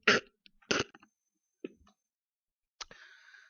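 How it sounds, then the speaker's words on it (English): A couple of sharp coughs close by, followed by a brief throat sound and a faint rustle, with quiet gaps in between. "I just had a little cough there."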